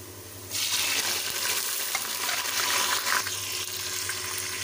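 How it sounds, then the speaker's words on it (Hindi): Tomatoes added to fried onions in a pan for dal mash, a hiss that jumps up sharply at the start and then holds as a strong steady sizzle with light stirring. "टमाटर मैंने ऐड कर दिए इसमें अब एक मिनट के लिए इन्हें फ्राई करेंगे"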